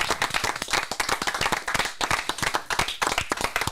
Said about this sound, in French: re-applaudissements pour Alain Turban